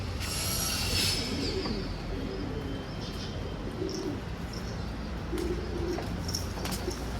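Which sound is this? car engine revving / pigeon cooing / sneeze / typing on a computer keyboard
pigeon cooing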